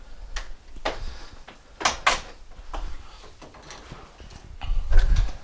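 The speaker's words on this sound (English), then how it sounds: "now I've come through both doors" Footsteps and door handling indoors, moving from a house through two doors into a garage: irregular thumps, latch clicks and swinging-door knocks, fairly close, with shuffling steps in between and no speech.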